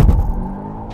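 A 2019 VW Jetta GLI launches hard with its tires smoking, giving a brief, loud, low roar that fades quickly as it pulls away.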